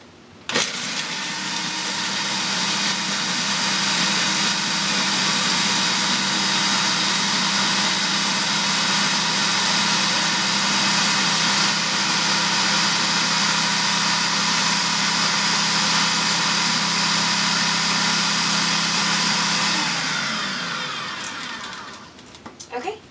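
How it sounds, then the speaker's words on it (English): A blender crushes Oreo cookies into fine crumbs, running as one loud, steady whirring roar for about twenty seconds before it winds down and stops. "you're going to blend it until it's finely crushed"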